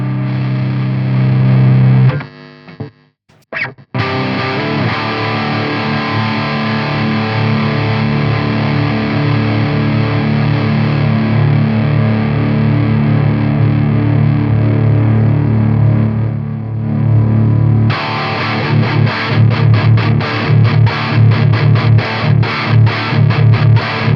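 Electric guitar through an Origin Effects Revival Drive Hot Rod pedal on its Valve channel, with thick overdriven distortion, plays loud sustained chords and riffs, briefly cutting out near the start, then choppy palm-muted strums toward the end.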